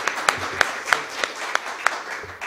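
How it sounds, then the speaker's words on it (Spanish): A brief round of audience applause for the doctors at a law congress on constitutional matters, a few sharp, evenly spaced claps standing out above a soft wash of clapping. "Le brindamos un aplauso a los doctores."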